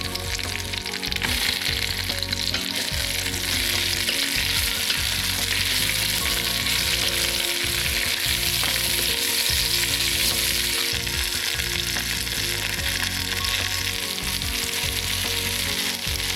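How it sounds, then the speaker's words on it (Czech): Spices, white pepper and fennel sizzle and fry in hot oil for Vietnamese beef pho, a steady loud crackle with stirring and clattering throughout, no voices. "Jakmile máme olej rozpálený, tak tohle všechno tady orestujeme."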